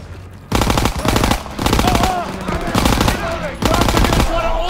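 Rapid machine gun bursts from the Call of Duty WWII video game, several loud sustained volleys separated by short pauses, with shouted voices and battle noise in between.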